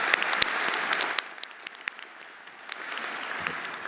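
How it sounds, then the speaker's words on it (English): Audience applause at a business school commencement ceremony, a steady wash of many hands clapping that dips briefly midway and then swells again, heard alone without speech. "another round of applause for"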